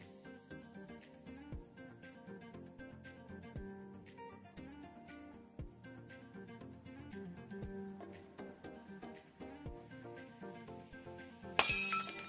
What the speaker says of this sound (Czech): Tak, slyšel jsem okno, kdo rozbil okno.